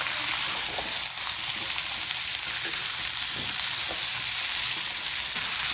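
Carrot, potato and pea sabzi sizzles in a pan while being mixed, a dense continuous frying hiss with faint scraping of a spoon now and then, close and even throughout.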